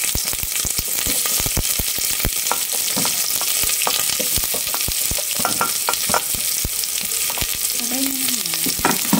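Onions sizzle and crackle in hot cooking oil, a steady loud frying hiss broken by frequent sharp pops and spatters and a few scraping stirs, with no talking.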